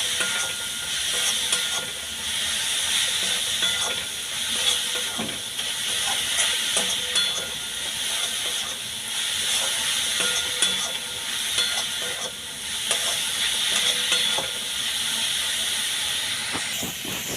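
Coconut filling being stirred in a pan gives a soft, steady hiss with repeated scraping strokes of a spatula, moderately quiet and continuous, with no talking.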